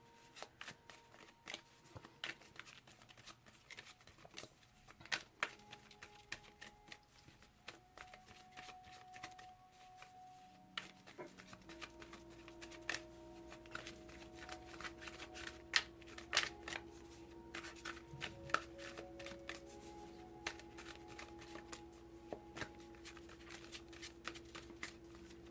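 Oracle cards shuffled by hand in a steady stream of soft riffling and tapping, quiet and close, with faint background tones.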